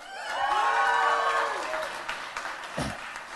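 A church audience claps and cheers for invited students, warm applause swelling and then tapering over a few seconds, with excited voices and a rising whoop near the start.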